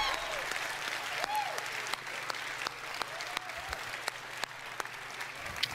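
Steady applause from a large audience at an E3 2018 press conference, continuous clapping throughout at a moderate distance.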